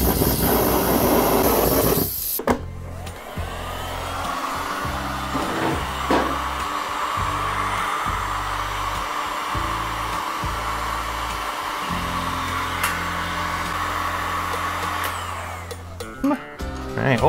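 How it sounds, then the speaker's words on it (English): A blowtorch flame roars steadily and close for around thirteen seconds while heating a part of a 48-year-old 100cc two-stroke motorbike, with a rough burst and a clunk at the start and at the end. "Last time I used this blowtorch, it tried to kill me."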